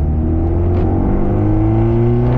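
A Porsche 968 CS fitted with a new exhaust runs close and loud, its engine holding a steady rising drone with strong low harmonics that climb gradually as the revs build, with no talking over it.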